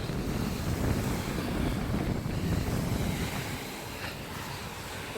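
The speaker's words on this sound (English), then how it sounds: "It's a little bit windy down here." Strong wind buffets the microphone with a low roar, and surf washes in the background at Osborne beach; no one speaks.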